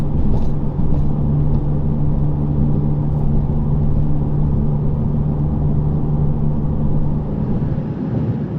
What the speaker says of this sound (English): Now here is the road noise by itself.